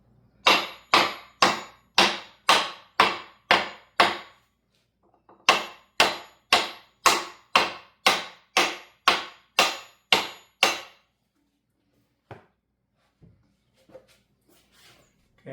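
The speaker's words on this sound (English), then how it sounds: "use a block of wood and my little brass hammer to drive that in." A small brass hammer raps a block of wood to drive a gear into a Deuce truck transmission: about nine sharp, evenly paced knocks, a short pause, then about ten more, followed by a few faint taps.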